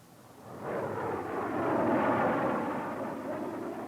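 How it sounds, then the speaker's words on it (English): Low-level reconnaissance planes sweep past at near treetop level, a loud, sustained broadband roar that swells in the first second and holds steady, with no voices over it. "Low-level reconnaissance planes at near treetop level surprise the Cuban anti-aircraft crews"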